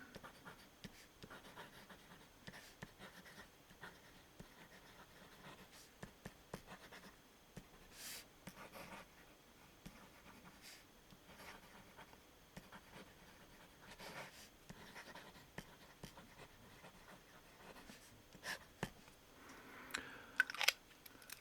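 A broad-nib Conway Stewart fountain pen scratches faintly across paper, with soft intermittent strokes and small ticks and taps near the end, alone and close.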